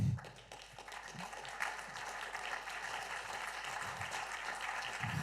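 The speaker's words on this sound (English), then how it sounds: "big round of applause for them." Audience applause for a five-person panel at a tech conference session on platform success, a broad steady wash of clapping at moderate level that carries on for several seconds, with some faint voices underneath.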